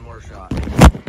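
A single sharp gunshot from a rifle fitted with a Turkish Army combat optic, close and loud, cracking out after a brief stretch of low background noise.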